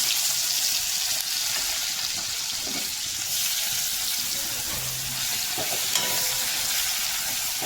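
Sliced onions dropped into hot oil with cumin tempering, frying for a pabda fish dish; a loud, dense, steady hiss fills the pan throughout, close up with occasional faint stirring knocks and no voices.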